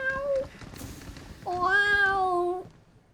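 A person imitates a cat with two loud drawn-out meows, a short one and then a longer wavering one, close and alone in a quiet room.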